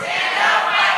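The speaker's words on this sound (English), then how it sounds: "Chanted the crowd outside of ACMA's office" A protest crowd outside a regulator's office chanting in unison, a dense, loud mass of voices that stays continuous through a short burst.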